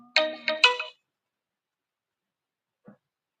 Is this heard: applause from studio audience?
no